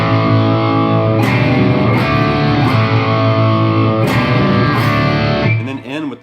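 Heavily distorted electric guitar rings out sustained power chords with a few picked changes, loud and alone, fading at the end.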